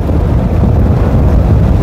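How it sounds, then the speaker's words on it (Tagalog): Strong wind roars and buffets the microphone in a constant low rumble during a road cycling race, loud and unbroken, with no voices. "Napakalakas ng hangin."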